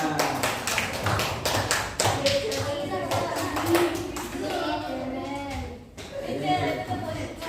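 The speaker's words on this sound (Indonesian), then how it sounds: "Tepuk tangannya yang meriah, guys" Hands clap in a classroom after a student group presentation, a run of sharp, fairly even claps that thins out midway, with children's voices and a teacher talking over and after it.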